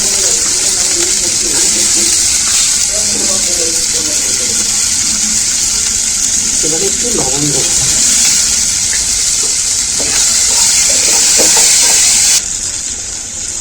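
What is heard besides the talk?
onions frying in a pan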